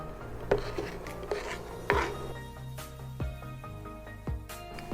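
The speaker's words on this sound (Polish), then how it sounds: "I kroimy nasze rydze na takie paseczki" A knife slicing saffron milk cap mushrooms into strips on a board, several separate soft cuts and taps at an uneven pace against faint kitchen background.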